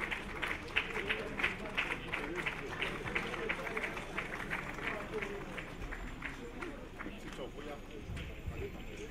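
An audience applauds after a convocation lecture with steady, dense clapping that continues for several seconds, while a voice speaks over it.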